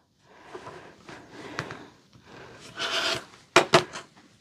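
Stacked fabric strips being trimmed with a rotary cutter, a series of short rasping cuts, then sharper scraping strokes near the end, close and fairly quiet with no talk.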